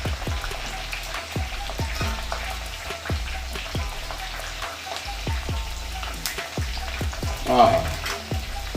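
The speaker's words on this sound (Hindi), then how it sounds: "चलिए इनको भी कर लेते हैं फटाफट फ्राई" Eggplant pieces fry steadily in hot oil for a gourd-and-eggplant dish, a continuous close crackling sizzle broken by regular utensil taps and stirring scrapes, with no talking.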